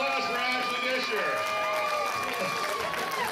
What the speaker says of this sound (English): Big round of applause for Ashley Disher